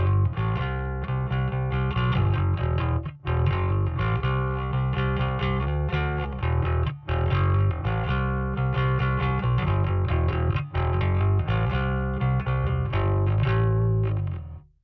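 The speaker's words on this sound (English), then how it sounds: "The distortion itself will become less forward in the mid frequencies and sound far more transparent." A bass guitar played through the distortion effect of a Kemper Profiler gives a loud, continuous run of gritty, driven notes with brief gaps between phrases, played alone with no voice.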